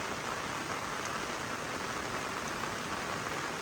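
Steady, dense storm rain hiss fills the whole stretch, a continuous broadband wash with no pauses and no voices.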